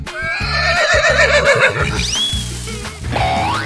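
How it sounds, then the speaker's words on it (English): A horse whinnies in a 3D animal slide game, one loud wavering neigh over a bouncy game soundtrack, with no talking. "Horse."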